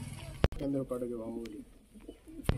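Teddy pigeons coo in a soft, repeated burble, close by, with two sharp knocks and faint background noise around them.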